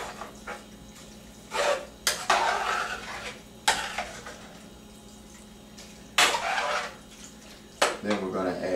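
Spoon stirring chili blend and tomatoes in a pot, giving several scraping, clinking bursts of utensil against cookware, moderately close, with quiet gaps between strokes and a faint background hum.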